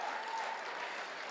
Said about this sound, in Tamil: நல்ல ஒரு பெரிய கரகோஷத்தை கொடுக்கலாம்.